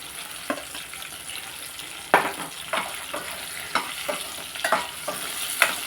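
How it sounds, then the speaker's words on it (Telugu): Dried red chillies frying in hot oil, a soft steady sizzle punctuated by irregular stirring scrapes and crackles, close and with no talking. "నూనె పొడి ఏర్పడుతుంది ఎండుమిరపాయలు కూడా వేసేద్దామండి"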